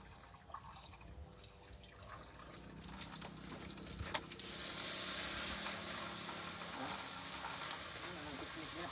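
Water is poured into a cooking pot on a fire in a rural home kitchen, a hiss of splashing and sizzling that builds and holds steady, with faint voices in the background.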